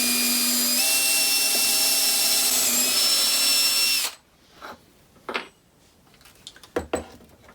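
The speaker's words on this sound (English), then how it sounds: "we're going to take our drill with the bit that we talked about before. We're going to drill the hole." A power drill bores a hole sized for a number 8 screw, a loud steady whine running about four seconds before stopping, followed by faint clicks and handling noises.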